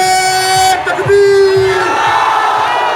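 A crowd at an AIMIM political rally for the 2017 Solapur municipal corporation election chants and shouts slogans together, loud and close, with a sustained tone ringing over the crowd noise early on.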